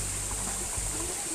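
Steady rushing water of a stream in a park along a hiking trail in Tsuen Wan, a continuous broadband flow close by with no voices.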